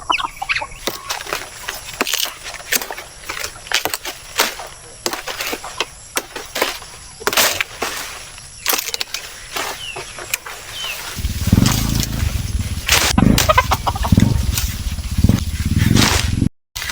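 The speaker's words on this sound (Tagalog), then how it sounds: "yung ating mga native na manok" Native chickens on a small farm, with scattered clucks and brief sharp calls close by, along with wing flaps and clatter, then a louder low rumbling noise that builds over the final few seconds.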